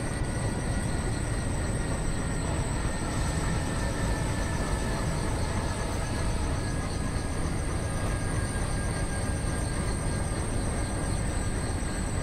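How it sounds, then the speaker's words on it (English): A train rumbles past steadily and loudly on the opposite track in the game Train Simulator (RailWorks 3), with a constant low roar and faint high whine for the whole stretch, no talking. "So one more train just coming on opposite track."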